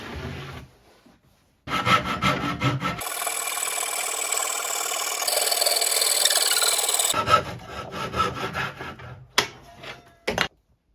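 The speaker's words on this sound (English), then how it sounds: "then I cut out with a jigsaw, I guess, yeah, along that angle and then down" Jigsaw cutting wood along an angle during a mitre station build, its buzzing blade running steadily for several seconds between bursts of shorter rasping cuts and pauses, close and loud, no talking.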